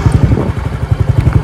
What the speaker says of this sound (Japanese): でエンジンちょっとかけますね